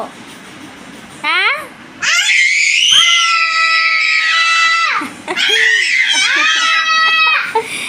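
A child screams loudly at close range in long, piercing bursts, pausing briefly between them, with a short wail at the start.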